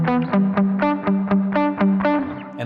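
An electric guitar runs through a BOSS ME-90 multi-effects unit with drive and reverb on, playing a steady series of loud, distorted notes that ring and blend into a reverberant wash.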